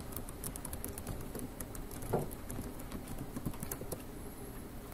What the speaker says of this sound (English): the keyboard has to let me put the correct password